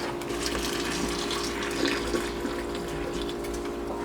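Water rushes and splashes steadily as boiled potatoes are drained in a sink, a continuous pouring sound with occasional gurgles.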